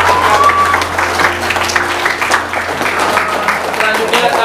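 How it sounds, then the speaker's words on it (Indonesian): Steady applause rises from an audience at a school farewell ceremony, a dense wash of clapping with a low hum underneath and some crowd voices mixed in. "Luar biasa, tepuk tangan lah"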